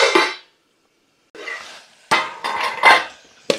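A metal lid set onto a cooking pot of mutton curry, a few clanking metallic knocks and scrapes separated by short silent pauses, close and sharp.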